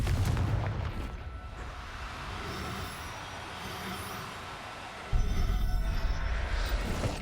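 The Confringo explosive spell cast in the video game Hogwarts Legacy, heavy booming blasts with a low rumble at the start and a sudden loud burst near the end, with no speech over them.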